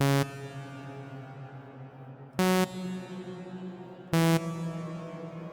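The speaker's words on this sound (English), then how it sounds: "It has a detuned kind of creepy type of reverb" Three struck synth notes in FL Studio, each passed through LuxeVerb reverb detuned down one semitone, ring out with long, eerie, wavering tails that decay between hits, no voice present.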